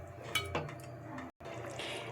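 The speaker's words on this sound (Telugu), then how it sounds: "ఇప్పుడు చింతపండు పులుపు వేసాను" Tamarind extract poured into a simmering katta (koyyanga) fish curry, giving a close, brief liquid splash and gush over the steady bubbling of the pot, with a few soft utensil clinks.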